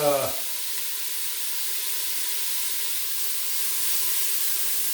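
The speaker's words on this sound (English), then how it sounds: "we're going to put in carrots, onions, and celery" Carrots, onions and celery land in a hot pan, setting off a steady, bright sizzle that holds evenly for several seconds after a brief voice at the start.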